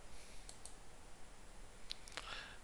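A computer mouse clicks a few times, faint and sharp, against a quiet background hiss.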